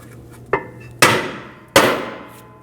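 A hammer striking a stuck brake rotor on a 2001–2009 Volvo S60 during a parking brake shoe job, three sharp metallic clanks, the last two harder and ringing briefly, over quiet shop background.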